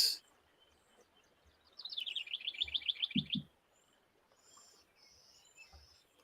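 Birds chirp outdoors in a rapid run of high, bright tweets. The calls sit over a soft natural background and are followed by fainter scattered calls and a brief low thump.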